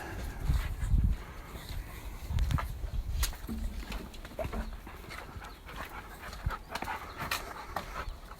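Dogs pant and move about outdoors in a garden, steady breathy panting with rustling and footsteps close by, no talk.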